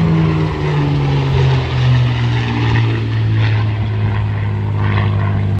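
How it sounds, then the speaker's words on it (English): Supermarine Spitfire aircraft engine at an aviation museum display: a loud, sustained propeller drone with slowly shifting pitch, steady and close throughout, no voices. "The Spitfire."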